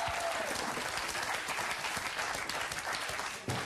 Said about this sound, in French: On peut applaudir encore une fois Fakir Bouboun